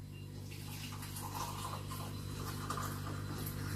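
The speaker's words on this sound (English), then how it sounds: "We pour the water." Hot water pours steadily into a mug of keto hot cocoa paste, a soft continuous splashing stream under a low hum, with no talking.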